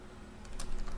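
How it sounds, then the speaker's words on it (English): Quick keystrokes clatter on a computer keyboard, a short burst of typing growing louder after a quiet start. "So I'm typing in optimization"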